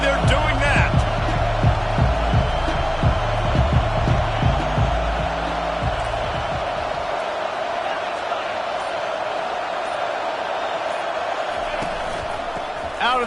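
Stadium crowd noise from an NCAA 25 college football video game, a steady loud roar of cheering that swells early and holds through, with commentary-style voices talking over it.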